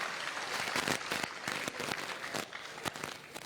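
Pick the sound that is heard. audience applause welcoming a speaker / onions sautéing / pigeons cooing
audience applause welcoming a speaker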